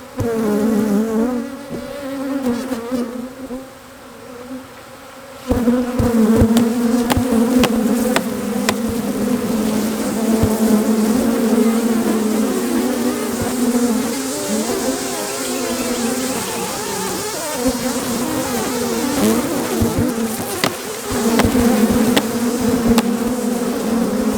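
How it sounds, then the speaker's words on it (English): Dense, continuous buzzing of many bees swarming close by at a hive being split, a steady droning hum that swells and dips slightly without pause. "There's bees everywhere."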